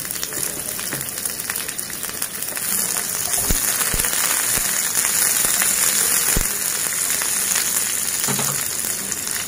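A whole onion cut into chunks fries in half a spoonful of hot oil for a Maharashtrian mutton masala paste, giving a steady, close, hissing sizzle with occasional sharp pops and crackles throughout.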